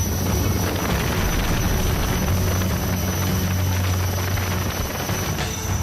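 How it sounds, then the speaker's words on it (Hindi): An Indian Air Force helicopter thunders overhead during a flood rescue, a loud, steady rotor drone with heavy wind rush filling the whole stretch, no voices. "आसमान में गड़गड़ाता वायुसेना का ये हेलीकॉप्टर"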